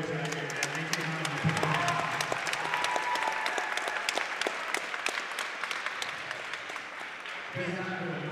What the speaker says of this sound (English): how about a round of applause for these two warriors right here, man?